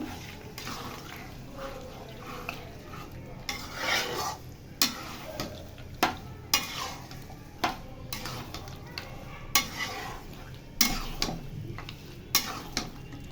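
A spoon stirs olives in a pan of tempering spices for olive pickle, with a soft continuous sizzle broken by repeated sharp scrapes and clicks against the pan at irregular intervals.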